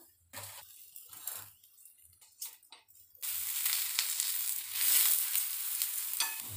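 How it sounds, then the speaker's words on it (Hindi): A paratha roasts on a hot pan, a soft broadband sizzle rising steadily after a few quiet scrapes and light taps, close and continuous with no one talking. "इसी तरह हम सारे पराठे को सेक लेंगे"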